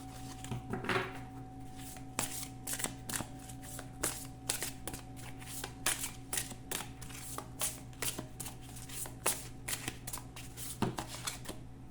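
Oracle cards are shuffled by hand in quick, repeated riffling bursts with soft slaps between them, close and steady throughout.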